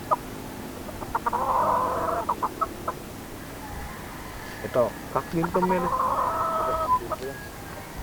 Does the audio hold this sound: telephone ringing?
no